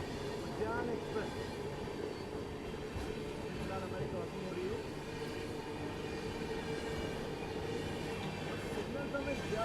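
Udyan Express train rolling along the rails, a steady, loud rumble of wheels and carriage noise throughout with no clear breaks.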